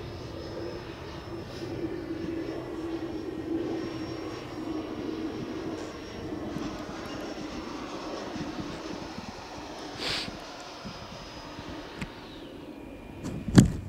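A Freewing Eurofighter Typhoon 90mm EDF model jet flies over a model airfield, its thin, high whine sustained and fairly distant, drifting in pitch over a low rumbling background, with a brief closer whoosh and a sharp bump at the end.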